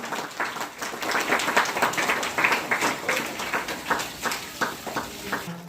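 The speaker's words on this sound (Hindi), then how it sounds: "एक बार जोरदार तालियां महेंद्र सर के लिए।" A school crowd at an Independence Day ceremony applauds loudly for Mahendra sir, dense rhythmic clapping with sharp bursts lasting several seconds, with a voice briefly audible underneath.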